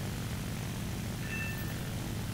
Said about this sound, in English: I was turning, all of a sudden my plane just decided to go